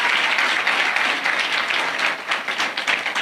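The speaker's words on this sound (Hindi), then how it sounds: "जोरदार ताली बजाए प्रभु के दास के लिए।" A church congregation applauds loudly to welcome a preacher, a dense steady roar of many hands clapping at once, close and sustained throughout with no voices over it.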